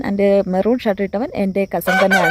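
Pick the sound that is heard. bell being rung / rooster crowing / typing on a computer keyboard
rooster crowing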